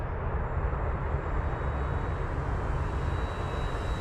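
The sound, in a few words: RC plane with new motor and Tempest 12.8 prop flying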